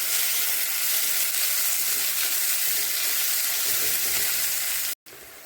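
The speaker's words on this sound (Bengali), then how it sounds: "পেঁয়াজ কুচিটা ভালো করে ভেজে নেব।" Chopped onions fry loudly in hot oil with cumin, bay leaf and dried red chilli in a pan, a steady dense sizzle that cuts off abruptly near the end.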